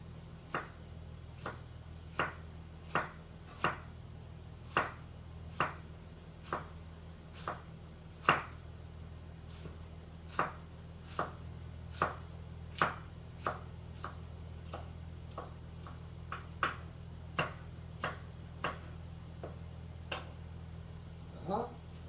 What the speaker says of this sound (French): Ensuite, je viens tailler mes endives finement dans le sens